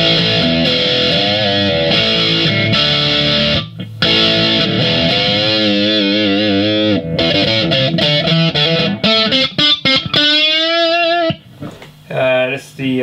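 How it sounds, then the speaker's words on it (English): Electric guitar through a BOSS XT-2 Xtortion pedal with all knobs at 12 o'clock plays thick sustained chords, then bends and vibrato notes, ending in choppy short phrases; loud and saturated throughout. "Distortion with everything at 12 o'clock."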